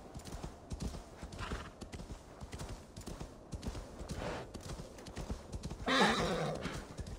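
A horse in Assassin's Creed Valhalla gallops with a rapid, rhythmic clip-clop of hooves, then lets out a loud whinny near the end.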